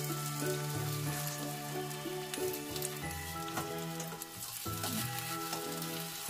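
An omelette sizzles and fries in a pan, a steady crackling hiss that carries on throughout with music playing over it and no talking.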